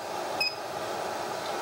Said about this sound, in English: when it beeps, it means it's ready now for the next